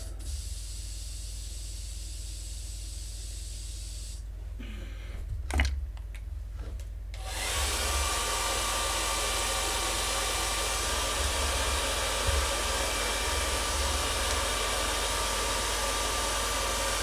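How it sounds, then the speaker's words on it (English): A hair dryer is used to dry paint on a model, starting after a few seconds of quiet handling clatter and then roaring as a loud, steady blowing hiss close by that holds to the end, with no talking. "trying to dry things with a hairdryer"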